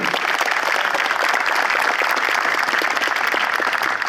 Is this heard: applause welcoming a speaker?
yes